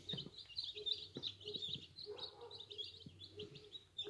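Young chicken chicks peep and chirp close by in a small brood, quick high repeated calls over low clucking and faint background noise.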